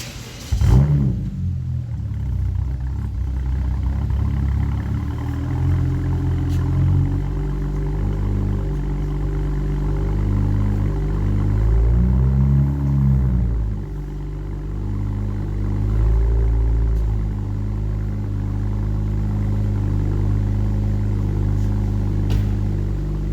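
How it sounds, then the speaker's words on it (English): A BMW engine cold-starts and settles into a steady idle, a continuous low rumble with a brief surge near the start and mild swells in pitch as the revs fluctuate, close and loud with no talking. "Yeah, let's do a cold start."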